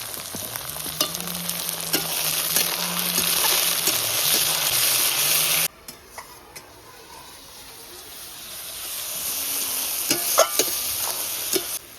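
Ginger garlic paste fries in a pan while being stirred, a close, continuous sizzle with scraping stirs that drops quieter midway and then builds again.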